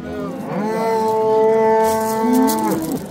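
A dairy cow at a livestock market gives one loud, sustained moo lasting about two seconds, close and clear, with faint crowd noise around it.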